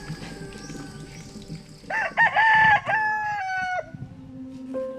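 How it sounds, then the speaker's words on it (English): A rooster crows at dawn in a rural village, one loud drawn-out cock-a-doodle-doo rising and falling over softer farmyard clucking and background birds, fairly close. "When the rooster crows, Aida Proceso wakes her family."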